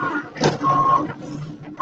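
A Cricut cutting machine slicing faux leather makes soft, close mechanical whirs and brief motor whines, with a short scraping burst and a sharper whine near the end.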